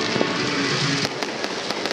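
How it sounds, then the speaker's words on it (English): Outdoor fireworks crack and pop in a rapid scattered series of sharp bursts over a constant background hum, the reports sounding fairly close and loud. "These fireworks are so much prettier in real life"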